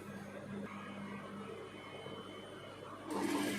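A sewing machine runs a seam on a kurti sleeve at a 1.5-inch margin, giving a quiet, steady motor hum that swells slightly louder near the end.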